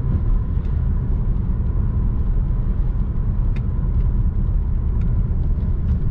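A BMW E92 320d with a 177 hp diesel engine and manual gearbox cruises on the autobahn, a steady low rumble of engine and road noise filling the cabin with faint ticks and clicks.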